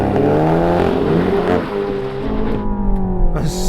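Front-wheel-drive hot hatches, a VW Golf GTI Clubsport, Honda Civic Type R and Renault Megane Trophy, launch together on a damp British drag strip, engines roaring loud and close with spinning tyres before the revs shift.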